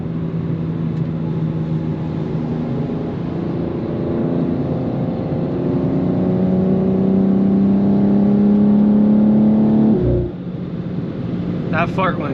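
A 2024 BMW G87 M2 pulls hard on a highway, its engine note rising steadily and loudly for about ten seconds before a sharp exhaust pop cuts it off, followed by fainter crackles.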